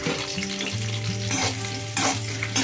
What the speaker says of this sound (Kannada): ಒಂದು ಬಾಣಲಿಗೆ ಸ್ವಲ್ಪ ಎಣ್ಣೆ ಹಾಕಿ ಆಮೇಲೆ ಸಣ್ಣಕ್ಕೆ ಹಚ್ಚಿರೋ ಬೀನ್ಸು